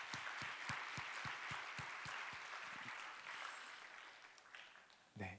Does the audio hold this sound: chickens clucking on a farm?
no